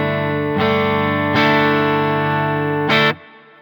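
Electric guitar chords played through a Quad Cortex simulating a Zillow Open Gold 19 cabinet, tuned for clean tones: three strummed chords ring out with sustained harmonics, each struck about a second or more apart, loud and alone before fading.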